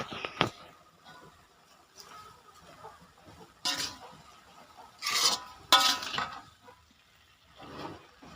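Water spinach being stir-fried with sugar and seasoning in a pan, heard as intermittent scraping and clinking strokes of a utensil against the pan, fairly close and moderately loud, with quieter pauses between strokes.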